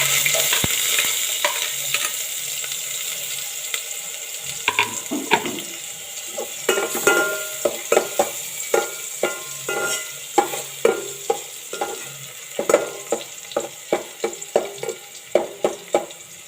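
Garlic fries in a pan for milkfish sinigang, a bright constant sizzle broken by many sharp clinks and scrapes of a utensil stirring against the pan, growing busier and more rhythmic toward the end.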